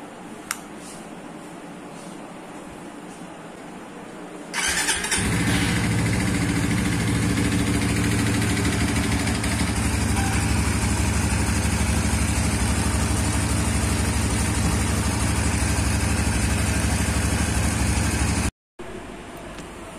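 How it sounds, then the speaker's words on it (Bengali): A Suzuki GSX-R 150 motorcycle, just fitted with a new NGK Laser Iridium spark plug, starts about a quarter of the way in, then idles steadily and close by. Quiet rustling comes before the start, and there is a very brief dropout near the end. "এবার বাইক স্টার্ট দিয়ে দেখি।"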